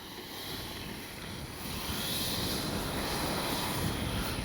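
A radio-controlled F-15 with 64mm electric ducted fans makes a flying pass in strong wind, a steady, loud whooshing jet roar that swells slightly toward the end over broadband wind noise, with no talk.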